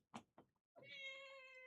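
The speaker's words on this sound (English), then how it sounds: "Cat." A cat meows close by indoors in one long, drawn-out tonal cry, just after two soft knocks or thumps near a workbench where a computer mouse is being modded.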